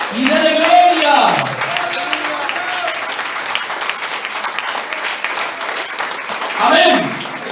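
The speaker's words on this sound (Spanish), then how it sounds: "Aplaude" A church congregation bursts into applause during a service, loud and close at first, then fading into a murmur of voices and a preacher talking before a second swell of clapping near the end.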